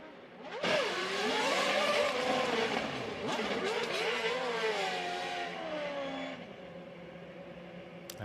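Auto GP race car engines snarl and rev as the cars form up for the race start in Marrakech, Morocco; several loud, rising and falling engine notes overlap and sweep past close by, with a commentator's voice faintly underneath.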